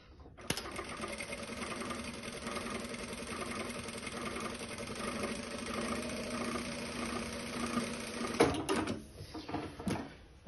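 A JUKI DDL-900C industrial sewing machine runs a built-in decorative stitch pattern, a steady fast mechanical whir with rhythmic needle chatter for about eight seconds before stopping, followed by a few clunks.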